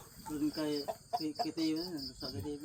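Hens give drawn-out, wavering calls mixed with shorter clucks, fairly close, over a thin chirping of crickets.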